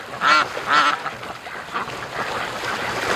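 Free-range ducks on a lake: two clear nasal quacks close together up front, then softer, scattered calls over a steady outdoor background.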